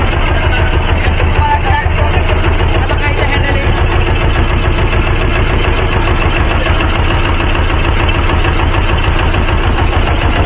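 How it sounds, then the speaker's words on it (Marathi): A boat engine runs steadily at idle, a continuous low throbbing drone carried near and loud on a boat trip toward Vasota fort, with people talking over it throughout. "तर आता आमचं इंजिन चालू झालेलं आहे"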